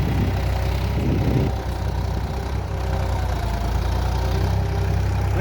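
A Massey Ferguson 5245 tractor engine pulling a 5-point cultivator in a farm field, a loud steady diesel throb with a low rhythmic knock, close and continuous.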